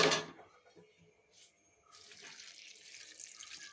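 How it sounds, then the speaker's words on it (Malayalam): Water splashes into a pan of ivy gourd curry being cooked, with a short sharp gush at the start, a lull, then a steadier, softer stream of running water. "ഇതിനകത്തിലേക്ക് നമുക്ക് കുറച്ച് വെള്ളം ചേർത്ത് കൊടുക്കാം."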